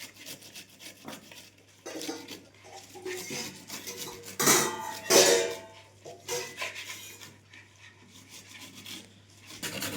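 Spinach being grated for juice in a home kitchen, a rhythmic scraping and rasping against a metal grater with a few louder clattering strokes near the middle, close and fairly quiet.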